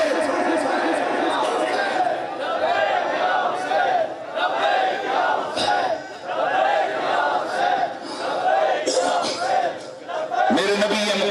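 A large crowd at a religious gathering chants slogans in rhythmic waves of many voices, loud and continuous, rising and falling with brief pauses between calls.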